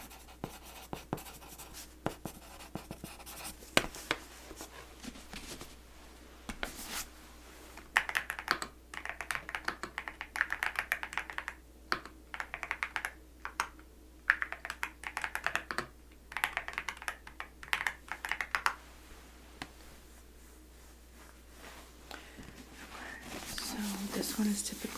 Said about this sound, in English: type this one in too really quick